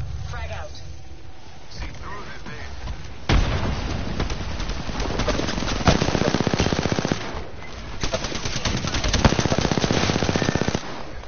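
Video game gunfire starts quietly, then from about three seconds turns into loud, sustained rapid automatic bursts with booming impacts, continuing densely to the end with voices faintly underneath.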